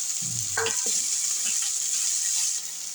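Chopped churuli for thoran fries in a pan with a steady, bright sizzle. A few low knocks and scrapes from stirring come early, then the hiss carries on alone.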